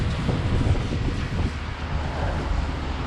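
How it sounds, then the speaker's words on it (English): Strong wind gusts roar steadily on a rainy day in Macau, a dense low rumble buffeting the microphone throughout with no voices. "So yeah, it's super windy now."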